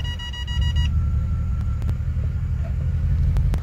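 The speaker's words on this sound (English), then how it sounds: "And with the motor running, I'll go through the gears." A Mercedes E-Class with a 722.9 automatic idles on jacks in a garage while the transmission is moved through the gears, a steady low engine rumble with a few faint clicks and a brief early beeping.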